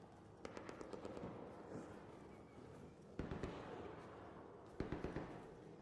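Distant gunfire in the shooter game Arc Raiders: sharp cracks, a rapid string of shots early and single bursts later, fairly far off over a low ambient bed.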